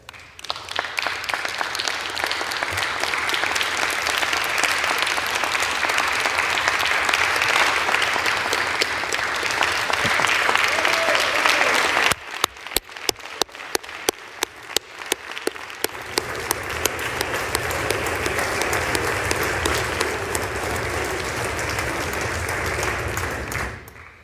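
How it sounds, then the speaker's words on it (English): Sustained applause fills the House chamber, loud and dense, with a brief thinning into scattered claps midway before the ovation swells again. "they deserve all of our applause today"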